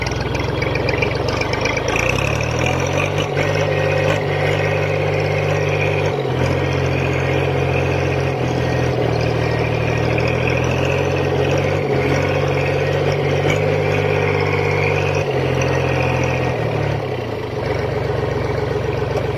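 Diesel engine of a Kubota Sunshine L2 farm tractor moving forward in second gear, a steady low thrumming chug that runs on evenly throughout with small dips, close and fairly loud.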